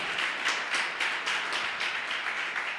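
Congregation in a church applauding during a sermon, a steady wash of many hands clapping at moderate distance, with rhythmic pulses as some clap in time.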